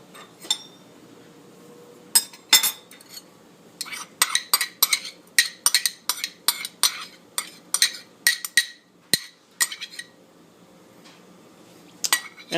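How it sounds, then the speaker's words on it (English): Raw white onion is stirred into a chicken, bacon and green bean casserole mix in a bowl, a spoon clinking repeatedly against the bowl in a quick irregular rhythm, close and clear with no talking. "Next, I will stir in my raw onion."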